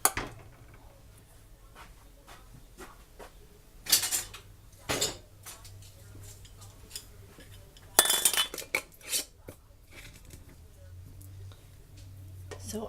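Glass pint jars of chicken gizzards are set into a metal canner, making several sharp clinks and knocks with scraping and creaks between them, close by, with quieter handling in the pauses.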